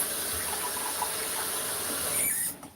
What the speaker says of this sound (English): I'm going to be using the water out of the fountain